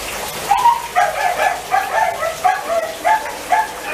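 A neighbor's dog barks repeatedly in the rain, a steady run of about a dozen sharp, moderately distant barks over a soft hiss of rainfall, with no talking.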